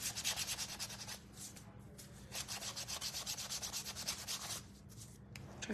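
Coarse sandpaper rubbed by hand over a wooden spindle-base birdhouse gives steady rhythmic scratchy strokes, close and fairly quiet, with a brief pause partway through and no voices.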